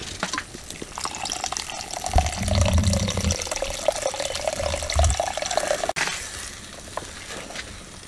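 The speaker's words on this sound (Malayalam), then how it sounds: "ഇനി നമുക്ക് ഇതിലേക്ക് ആവശ്യത്തിനുള്ള വെള്ളം ഒഴിച്ചു കൊടുക്കാം." Water pours steadily into a pot of Pallathi fish curry in a village kitchen, a continuous splashing stream with a heavier gush midway and an abrupt stop near the end.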